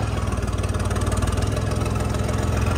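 A motorcycle engine idles steadily close by while its silencer is being changed, a low, even throb with a regular pulse and no voices.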